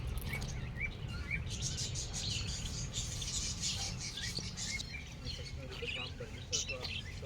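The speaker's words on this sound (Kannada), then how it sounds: "ಸೊ ಇವ್ರ ಫ್ಯಾಮಿಲಿ ಹೆಸರು ಬಂದು ಕೊಕಾಟೋ ಫ್ಯಾಮಿಲಿ ಅಂತ" Cockatoo-family parrot calling inside a pet store in Karnataka, repeated short chirps and squawks amid other birds' chatter, moderately near, with a person talking over the calls.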